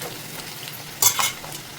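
Capsicum and potato curry frying in a pan, a soft sizzle with two quick scraping stirs of a spoon partway through.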